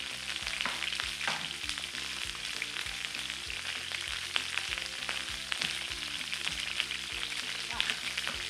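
Food browns in a frying pan with a steady, close sizzle and frying crackle throughout, punctuated by rhythmic knife chops on a cutting board as peppers are cut nearby.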